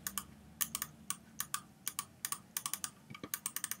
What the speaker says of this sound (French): Je clique.